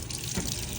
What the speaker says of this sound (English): filling water